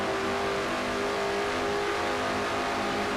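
A Chevrolet NASCAR race car in a racing video game, engine held at a loud, steady high-rpm drone as it runs flat out down a long straightaway.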